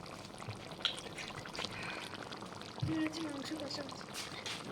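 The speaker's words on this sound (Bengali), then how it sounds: "আমি এর মধ্যে দিয়ে দেবো একটু ভিনিগার" Vinegar is poured into a cooking chalta pickle over a medium gas flame, a brief liquid splash and gurgle over a low bubbling background, with a voice speaking faintly nearby.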